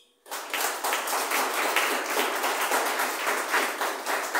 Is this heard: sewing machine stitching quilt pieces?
no